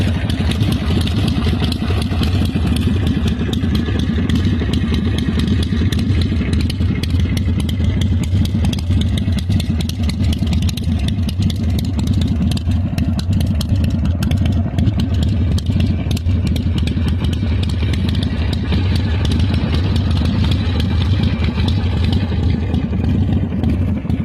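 A 1993 Harley-Davidson EVO Sportster 1200 custom motorcycle engine runs with a loud, steady, rumbling idle and mechanical clatter, close and continuous throughout.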